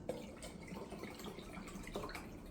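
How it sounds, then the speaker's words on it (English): Water is poured into a glass and topped up to the brim, giving a steady, fairly quiet trickle and splash that runs the whole time with a few brighter drips. "I'm gonna add a bit more water, fill it up to the top"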